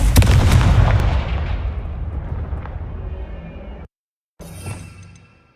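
Confringo fire-spell blasts in Hogwarts Legacy: a loud, close booming burst that rolls off into a long fading rumble. It cuts out briefly, then a second, shorter hit follows and trails away.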